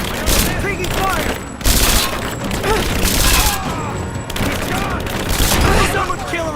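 Dense video-game gunfire from Rise of the Tomb Raider combat, with loud, rapid bursts crackling almost without pause and voices shouting faintly beneath.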